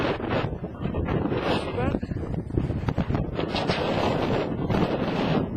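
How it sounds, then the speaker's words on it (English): Strong wind buffets the microphone on the summit of Pen Yr Ole Wen, a loud, continuous roaring rumble with gusty surges and no letup. "A bit breezy, but still."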